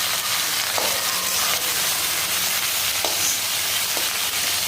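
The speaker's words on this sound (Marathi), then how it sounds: "एकसारखं सर्व खिचडी बनवून घ्यायची आहे." Peanut potato khichdi being stirred in a pan, with a steady frying sizzle and broadband hiss, a few faint scraping stir strokes, and no talk.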